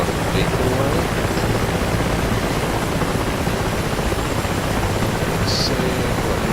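A Mi-8MTV2 'Hip' helicopter in the DCS flight simulator lifts off with its engines and rotor at high RPM, giving a dense, constant, loud turbine roar with no pauses from start to end.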